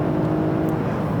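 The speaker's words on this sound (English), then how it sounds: "this is induction noise, and it's not bad" Lexus ES sedan engine induction noise under acceleration through a curve, a steady, loud droning hum with a low whir heard from inside the cabin, constant and unbroken.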